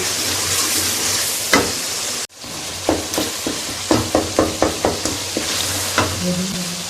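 A tomato masala fries loudly in a pan while a spoon scrapes and stirs it in a quick run of repeated strokes over a constant sizzle, close up with no talking.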